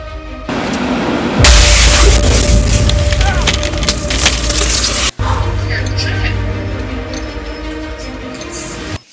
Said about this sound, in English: The still is on fire.